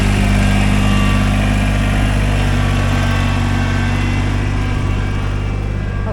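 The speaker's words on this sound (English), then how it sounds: "She's driving that tractor." A farm tractor's engine drones loudly and steadily at close range near a goat barn, with a continuous low rumble and no pauses.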